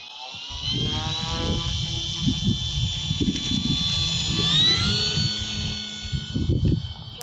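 An FMS Super Cub PA18 1.3 m RC model plane flies in winter wind, its electric motor giving a steady high whine that rises and shifts in pitch. Wind rumble and buffeting run underneath throughout.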